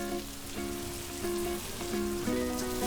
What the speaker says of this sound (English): fry the rice for about 4 to 5 minutes. Make sure to fry the rice on a high flame.